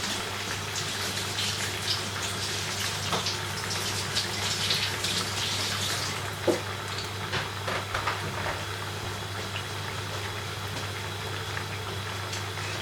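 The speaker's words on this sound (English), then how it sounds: "Just going to wash off my hands" Tap water runs steadily into a kitchen sink while hands are washed, a continuous close splashing hiss with small clinks and shifts, beneath a constant low hum.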